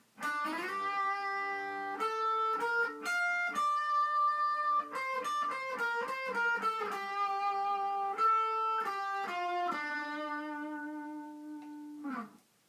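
A clean-toned guitar picks out a bouncy theme from Pokemon Omega Ruby/Alpha Sapphire in single notes, some quick runs and held notes, played alone and ringing out at the end.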